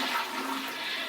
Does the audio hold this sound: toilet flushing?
yes